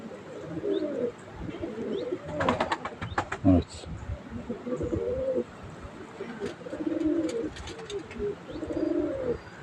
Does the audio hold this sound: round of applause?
no